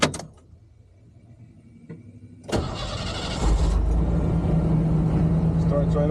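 Chevy OBS truck, just repaired, cranks briefly and catches at once, settling into a steady, close rumbling idle after a quiet moment of small clicks.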